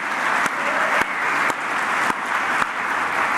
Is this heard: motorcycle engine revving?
no